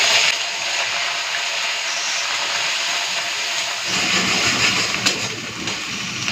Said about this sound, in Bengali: তেলটা গরম হয়ে গেছে এখন দিয়ে দেবো গোটা গরম মশলা দিচ্ছি পেঁয়াজ বাটা